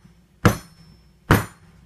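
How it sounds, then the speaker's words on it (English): A soap mold banged twice on a table while making soap on a rope, two sharp, loud knocks about 0.8 seconds apart, each with a brief clattering ring. "I'm just going to bang my mold a little bit"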